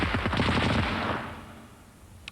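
A short, rapid burst of machine-gun fire rattles loudly and densely for about a second, then fades into a reverberant tail.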